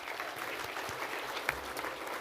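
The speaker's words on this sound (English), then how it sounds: "I think that deserves a big round of applause" A brief burst of crowd applause at a sports awards ceremony, continuous clapping from many hands, with a sharp single clap standing out near the middle.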